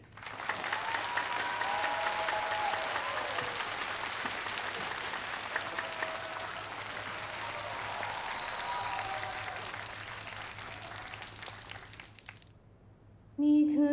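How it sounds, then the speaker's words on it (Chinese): An audience applauds a singer being welcomed onstage at a televised performance. The dense, steady clapping lasts about twelve seconds, then fades as music starts. "掌声有请"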